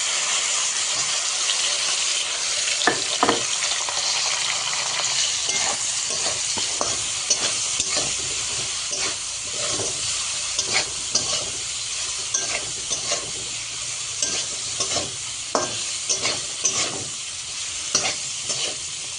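Spice-marinated fish sizzles and fries steadily with fried onions in a hot pan, a constant hiss broken by scrapes and clacks of a spatula turning it.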